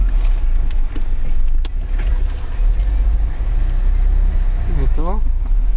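A car engine hums steadily while the vehicle pulls away, with voices and scattered bumps over the drone and a short rising whine near the end.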